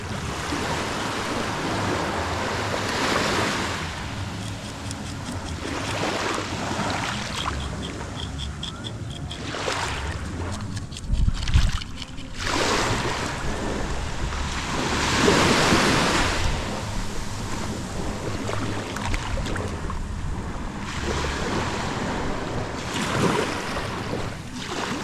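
Ocean waves surge and crash repeatedly nearby, swelling and receding in long rushes, with wind buffeting the microphone at times.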